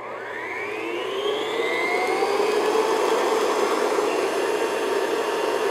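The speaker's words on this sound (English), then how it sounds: "That's probably going to take, with my mixer, probably at least 3 minutes." An electric stand mixer whips chocolate mayonnaise cake batter at high speed, a loud continuous whirring drone that swells slightly in pitch and stays steady, close by with no voices.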